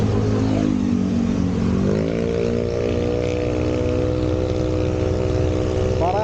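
A motorcycle engine revs and accelerates while riding in Dingalan, close and loud throughout, its pitch climbing in steps as it gains speed.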